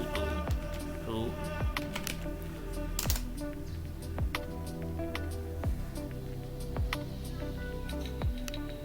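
Keys tapped on a computer keyboard while entering Pandas data-analysis code, a steady run of light clicks with a few sharper strokes, close and fairly quiet throughout.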